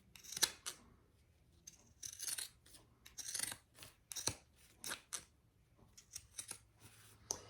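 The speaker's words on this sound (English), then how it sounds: "pinking shears are not designed to go through more than 2 or 3 layers of cotton" Pinking shears snip through several layers of cotton fabric in a series of crisp, close, irregular cuts with short pauses between them, heard alone without talk.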